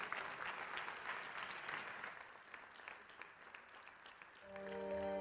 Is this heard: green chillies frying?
no